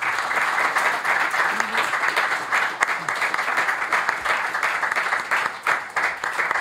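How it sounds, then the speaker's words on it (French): A steady, full round of audience applause welcomes a Palestinian writer onto a conference stage, dense clapping sustained at an even level throughout with no talk over it. "Je vous demande un tonnerre d'applaudissements pour Karim Katan."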